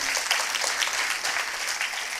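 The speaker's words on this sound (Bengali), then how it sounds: "জোরে একটা করতালি" Audience in a packed hall at a Bengali community gathering breaks into steady, dense applause, continuous and fairly loud throughout with no voices over it.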